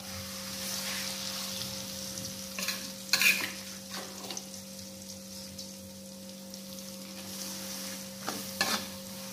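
Ground chili and shallot spice paste frying in hot oil with a little margarine, cooking for sambal goreng kentang; a steady soft sizzle runs throughout with a few louder bursts of stirring, no talk.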